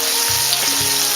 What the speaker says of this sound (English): So you just let the onion saute